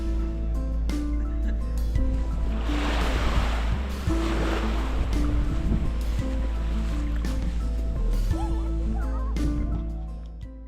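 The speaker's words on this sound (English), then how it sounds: "surf of the waves" Ocean waves surf onto a beach along the Dingle peninsula coast, a steady broad wash of breaking water near and loud throughout, with surges swelling and receding and faint bird calls behind.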